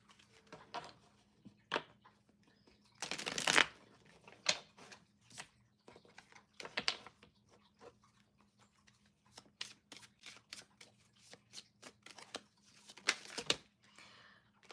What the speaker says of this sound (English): I'm just gonna shuffle real quick